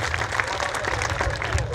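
Crowd at a Hindi kavi sammelan (poetry gathering) claps for a comedian poet. A dense, steady burst of applause runs throughout, with voices mixed in beneath it.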